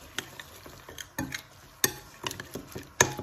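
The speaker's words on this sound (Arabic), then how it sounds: "صافي غنخلطو هاد العناصر كلهم مع بعضهم" Marinade of brown sugar, honey and other ingredients being stirred together in a bowl, heard as a series of irregular utensil clinks and scrapes, fairly close and alone with no talking.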